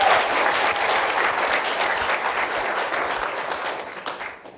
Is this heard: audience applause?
yes